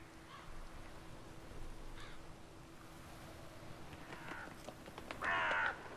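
Crows caw in the video game The Witcher 3, several faint, scattered calls spread across a quiet outdoor ambience, with a louder burst of cawing near the end.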